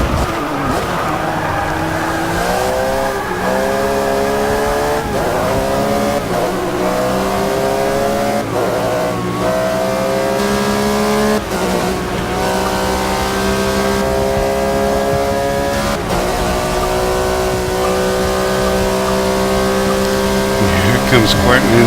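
A BMW and a Porsche race car roar around a track, engines loud and sustained with rising and falling revs and gear changes, as a commentator talks over them.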